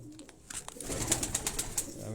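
Coos from high-flying pigeons kept by a Quetta fancier, soft repeated calls near the birds with light rustling and ambient noise.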